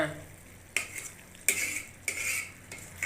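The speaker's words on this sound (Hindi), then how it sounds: "ये असीं मेथी इहदे पा दी है, इन्हूं भी इहदे मिक्स कर देने" A utensil stirs fenugreek into chicken and okra cooking in a pan, with four or five distinct scraping strokes against the metal over a soft sizzle.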